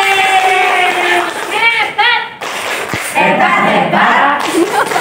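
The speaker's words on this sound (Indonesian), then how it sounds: "Pak David, kita beri tepuk hebat." An audience at a school meeting claps, a burst of applause mixed with thumps and crowd noise, while a loud voice speaks over much of it.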